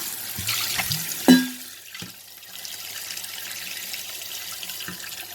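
Tap water runs into a sink as drinking bottles are rinsed, with a few clunks and splashes early on, then a steady low stream of flowing water.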